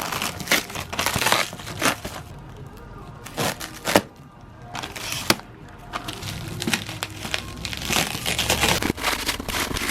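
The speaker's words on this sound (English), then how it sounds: "I'm gonna try to take care of this with just some scissors" Scissors snip and crunch through plastic and cardboard packaging around a delivered engine block, with steady crinkling, rustling and sharp cracking close by.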